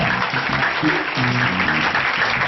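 A church congregation applauds during a worship service, a steady, dense wash of clapping over a low murmur of voices throughout.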